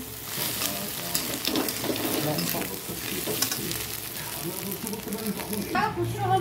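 Potatoes and egg for bhujia frying in a pan, with a continuous sizzle broken by scraping stirring strokes and a voice faintly in the background.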